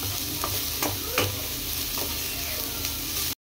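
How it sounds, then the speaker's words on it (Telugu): Grated carrot being stirred in a frying pan for carrot rice, a soft steady sizzle broken by several scraping strokes of the spoon, close by, before stopping abruptly. "ఇప్పుడు దాంట్లో మనం ముందుగా సన్నగా తురిమి పక్కన పెట్టుకున్న క్యారెట్ తురుమును కూడా వేసి బాగా"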